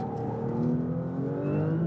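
An Audi RS5 plug-in hybrid engine revs and climbs through a manual downshift, a close, continuous whirring growl with rising and falling pitch sweeps and no talk over it.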